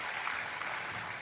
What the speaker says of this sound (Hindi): एक बार जोरदार तालियों से इन सभी कलाकार साथियों का उत्साहवर्धन करें।